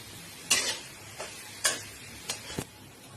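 Cumin powder and spices frying in a pan for a paneer with carrot curry, with a few scattered spoon scrapes and brief sizzles over a quiet background.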